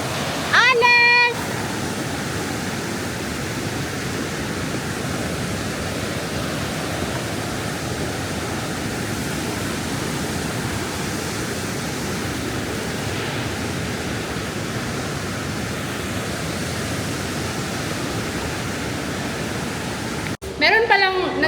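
Niagara Falls pours in a steady, dense roar of falling water that holds at an even loudness throughout, with a brief burst of nearby voices at the very start and end.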